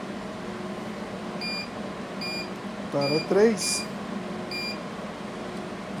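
Short electronic beeps from fiber laser marking equipment sound at intervals over a steady fan hum, with a person speaking briefly in the middle.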